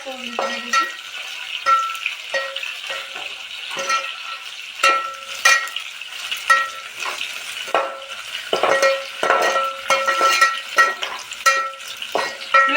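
Sliced onions frying in a pan for egg biryani, with green chillies nearby: a steady close sizzle broken by repeated scraping stirs of a spoon against the pan, continuing throughout with no talking.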